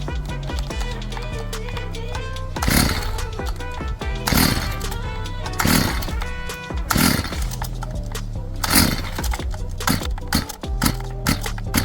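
A STIHL FS55 string trimmer with a newly installed carburetor kit being started on choke, its two-stroke engine catching in repeated loud bursts and revving unevenly over a steady running drone.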